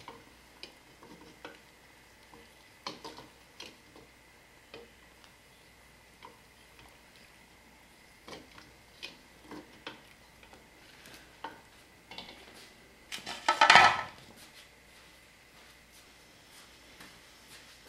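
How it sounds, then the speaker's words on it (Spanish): Sugar syrup being stirred in a pot to dissolve leftover sugar lumps for a quinoa drink, with soft repeated scraping ticks and one louder clatter near the end, no talking. "Sigue moviendo para que se deshaga todas las bolitas de azúcar que quedaron."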